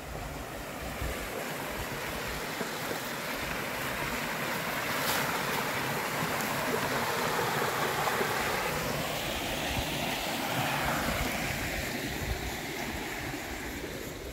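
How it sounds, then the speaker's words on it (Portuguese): Small, somewhat murky river flowing near Cambará, a steady broadband rush of moving water with outdoor wind buffeting, continuous and fairly close, with no voices. "achei um riozinho aqui, ó."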